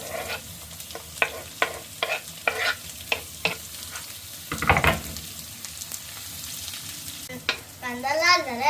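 Onion fries in a hot pan while a spoon stirs it in regular scraping strokes over a steady sizzle, loud and close, with a brief voice near the end.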